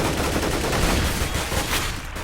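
Rapid, dense gunfire in Counter-Strike on the Cache map, a sustained burst of shots during a competitive round that stays loud from start to finish, with no talking.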